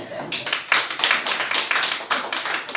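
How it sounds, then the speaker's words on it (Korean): A church congregation claps together in a small room, a steady run of close, fairly loud hand claps lasting a few seconds with no talk over it. "여러분 박수 한번 합시다."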